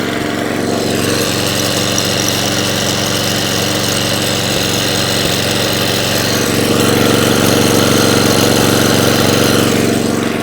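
An Atco cylinder lawn mower with a rear roller, of the Balmoral, Allett or Kensington type, runs continuously close by in a loud, steady engine drone that swells slightly toward the end, with no voices.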